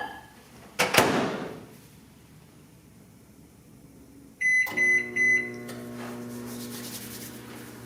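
A microwave oven heating a snickerdoodle mug cake: a sharp clatter of the door or buttons, a quiet stretch, then a few beeps and a steady low hum from the running oven.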